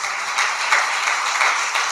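A church congregation at a Sunday service claps together in praise, a dense, steady burst of applause lasting a couple of seconds.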